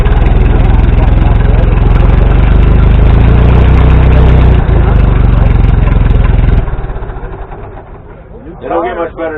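An old farm tractor that had sat outside for a long time and just had its carburetor cleaned idles loudly and steadily nearby, then shuts off and dies away, with someone speaking briefly at the end.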